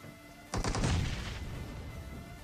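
A cooked grenade blows up in a shooter video game: one sudden loud blast that rolls off into a fading rumble, with no talk over it.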